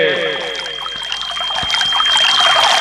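Water from a kamandal pot dipped into the Saryu river trickles and pours in a steady stream, close and moderately loud, with a voice talking over it.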